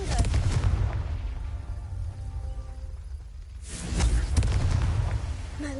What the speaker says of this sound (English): I love the fireball spell.